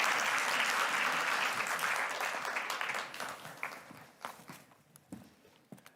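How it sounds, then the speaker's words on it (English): An audience at a conference applauds its speakers, with loud, dense clapping at first that thins out over the last seconds into scattered individual claps. "I'd like all of you to give a round of applause to all of our speakers."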